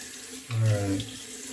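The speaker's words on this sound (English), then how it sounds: "Let me rinse the soap off from behind my ears" Water runs briefly from a tap into a sink while soap is rinsed off, a short close splash swelling and then easing into a steady trickle.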